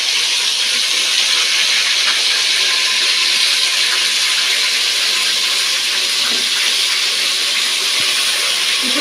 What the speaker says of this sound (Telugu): ఇప్పుడు మనం మసాలా పెట్టి పక్కన ఉంచుకున్న ఈ వంకాయలు ఇందులో వేసుకున్నామండి.